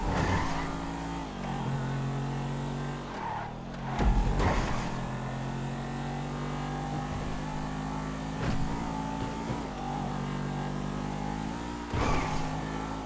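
Damaged race car in GTA Online on the Ultimate GP track, engine humming and revving steadily with occasional gear-change dips, close and continuous with no talk.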